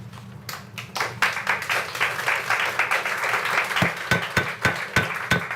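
Applause from an audience at a city Board of Mayor and Aldermen meeting, a burst of many hands clapping that swells, holds steady, then thins into scattered individual claps near the end.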